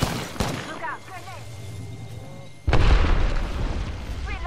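A grenade going off in a video game: a heavy boom partway through that settles into a loud rumbling tail, following a stretch of players talking over lighter game noise.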